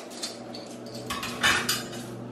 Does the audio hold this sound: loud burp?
no